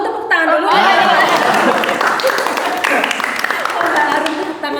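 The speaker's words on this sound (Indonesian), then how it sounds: "Harus tepuk tangan sendiri ya" Audience clapping at an Indonesian counseling competition, a dense broadband patter that holds steady for nearly five seconds with some cheering or chatter mixed in.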